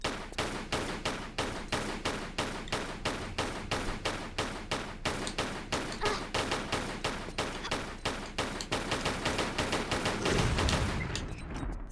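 Steady rhythmic gunshots fired at a Yeti in a custom Tomb Raider level, about two evenly spaced shots per second repeating for several seconds, loud and close, ending in a dull rumbling thud.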